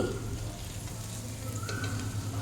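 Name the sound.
onions frying on medium flame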